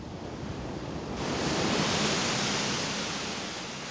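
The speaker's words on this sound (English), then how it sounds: "The G plows waves up in front as it rides through the water test" A Mercedes G-Class wades through a water test, its front plowing up waves; a steady broadband wash of surging water swells louder after the first second and holds close and full, with no talk.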